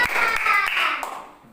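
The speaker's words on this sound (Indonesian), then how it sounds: "Tepuk tangan untuk kita semua." Hands clap in a classroom: a short, scattered burst of claps from a group, mixed with voices, fading out within about a second.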